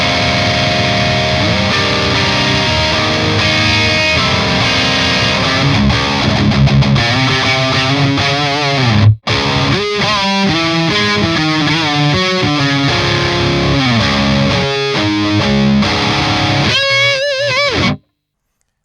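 Electric guitar on its neck pickup alone plays through an amplifier with a driven, slightly distorted tone, strummed chords and picked notes with a short pause midway, loud and alone.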